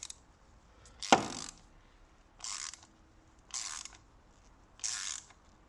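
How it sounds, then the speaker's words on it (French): A ratchet clicks in four short separate bursts while tightening the diesel fuel filter on a Renault Master 3, with a sharp knock at the start and quiet pauses between the clicking runs. "après, on reprend le cliquet. On le met en mode serrage"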